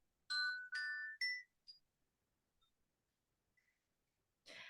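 A bell rings out in three bright, sustained chime tones in quick succession, followed by a brief softer ding, a long near-silent pause with tiny ticks, and then a short noisy burst.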